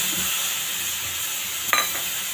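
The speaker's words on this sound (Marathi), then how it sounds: "छान पाण्याचा हपका मारते आणि हा कुलचा ह्याच्यावर घालते." Water splashed onto a hot tawa while cooking a whole wheat stuffed kulcha gives a steady, close hiss with a brief sharper sizzling burst near the end, heard alone.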